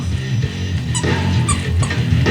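Small pet dogs whimper and yip in short bursts, with higher yelps standing out, over a steady background of other noise.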